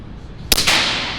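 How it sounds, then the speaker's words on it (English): A single suppressed 9mm shot from an STI 2011 pistol with a Kraken 9 suppressor, firing 147-grain rounds in an indoor range, a loud close crack followed by the ringing clang of the bullet striking steel that trails off. "A lot of what you're hearing is the bullet hitting the steel"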